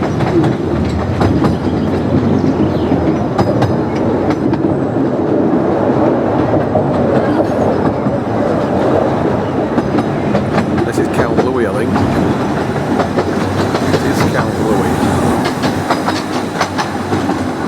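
Diesel locomotive Lady Wakefield hauls a train out of Ravenglass, a loud close rumble with rhythmic clickety-clack of wheels over rail joints, lasting throughout.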